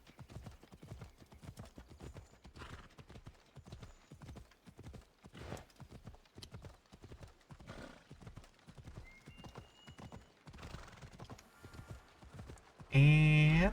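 A video game horse with a Phobos skin trots with a steady, rhythmic clip-clop of hooves. Brief whinnies break in now and then, and a loud burst of game sound cuts in right at the end.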